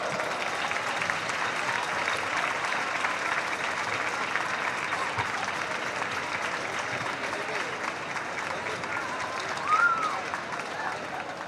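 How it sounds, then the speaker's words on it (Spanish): Sustained applause from a crowd at a tribute ceremony during San Pedro de Alcántara twinning celebrations, a dense, steady clatter of many hands lasting the whole stretch at an even level. "Así que yo quiero que para Pedro y Paco un fuertísimo aplauso."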